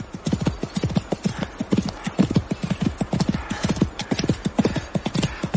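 Horse hooves during a ride, a rapid galloping clip-clop of steady rhythmic beats, close and loud, running throughout with no speech over it.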